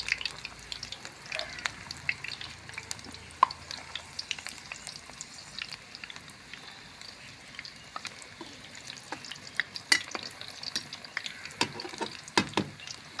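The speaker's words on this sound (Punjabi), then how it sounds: "ਤੇਲ ਆਪਣਾ ਗਰਮ ਹੋ ਚੁੱਕਿਆ ਆਪਾਂ ਕੜਾਹੀ ਦੇ ਵਿੱਚ ਕਰੇਲੇ ਪਾ ਰਹੇ ਹਾਂ ਜੀ" Bitter gourds (karela), washed, peeled and seeded, frying in hot oil in a wok, giving a soft steady sizzle with scattered pops and crackles, faint and close, with occasional stirring clicks.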